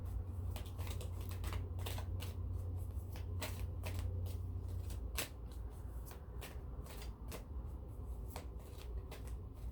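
Oracle cards, a Crystal Keeper's Oracle deck, being shuffled close up in a steady run of quick riffling flutters with a low hum underneath for the first half, no voices.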